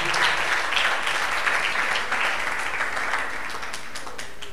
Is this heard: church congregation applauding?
yes